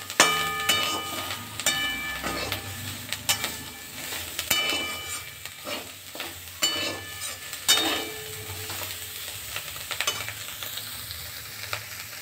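Prawns fry in hot oil in a pan for an onion-prawn dish, a continuous crackling sizzle punctuated by sharp metallic clinks and scrapes of a spatula against the pan, close and moderately loud without voices.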